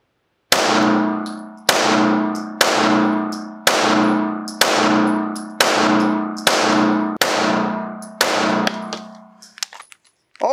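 Eight sharp pistol shots from a customized, competition-ready Springfield Armory Echelon fired at 10 yards ring out at an even, deliberate pace, each loud crack followed by a ringing decay, with a few faint clinks after the last.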